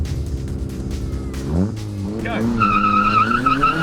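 A Nissan 180SX or similar drift car's engine revs hard before its tires break into a loud, sustained squeal as it slides. A voice calls out briefly near the start.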